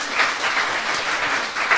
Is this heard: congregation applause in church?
yes